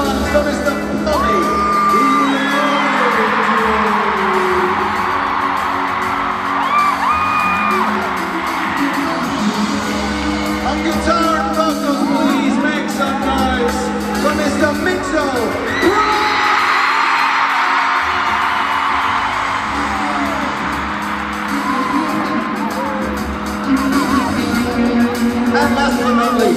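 A large arena concert crowd in Pittsburgh cheers, whoops and yells loudly and continuously during band introductions at a Harry Styles show, with swelling bursts of screaming across the whole stretch.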